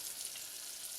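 Razor clam strips frying in hot oil give off a soft, steady sizzle, faint and continuous.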